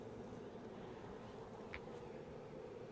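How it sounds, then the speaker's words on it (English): Honeybees buzz faintly around a swarm trap and hive on a very hot day, a soft continuous hum with a few individual bees passing close. "these bees are kind of scattered all over"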